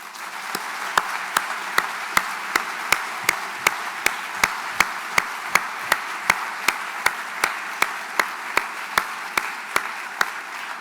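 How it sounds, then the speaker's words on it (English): An audience at a memorial lecture applauds steadily, the wash of clapping carrying sharp, evenly spaced claps for about ten seconds without speech. "And I wonder if we could just have a round of applause and thank Ruth and Judea"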